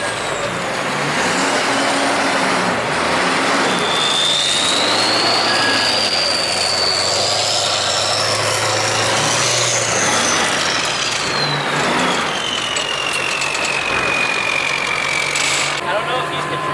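A diesel-powered 6x6 Hummer drives off-road, its engine giving a loud, sustained roar with a rising and falling high whine as it pulls along, close to the listener and steady throughout.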